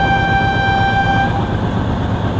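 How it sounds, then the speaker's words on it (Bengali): Sundarban Express passenger train at Bhanga railway station, a loud steady rumble with a tonal horn note held over it for about a second before fading into continuing train noise. "আমরা এখন আছি ভাঙ্গা রেলওয়ে স্টেশন আর আমাদের ট্রেন কিন্তু প্রথম বিরতি করলো"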